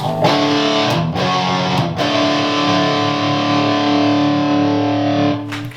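An electric guitar played through a lightly driven Danelectro FAB Metal distortion pedal with gain turned down, a few sustained chords ringing out with short breaks between strums.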